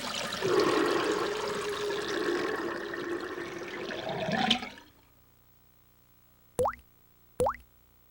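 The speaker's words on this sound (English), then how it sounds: "what really happens to the water after you flush the toilet?" A toilet flushes with a loud rushing swirl of water that drains away and fades, followed by two brief rising plop-like sounds.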